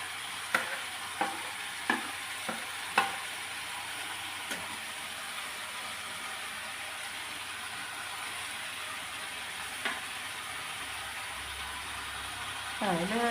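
Grated coconut is stirred in a frying pan, with a few sharp scraping knocks of the spoon against the pan early on over a faint steady background, then quiet, with a brief fresh scrape near the end.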